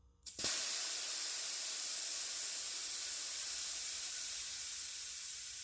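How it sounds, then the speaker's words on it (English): Air rushes out of a bike tire valve after a short click, then settles into a steady, loud hiss held close for several seconds that slowly fades near the end, with no voices. "release all of the air as much as possible"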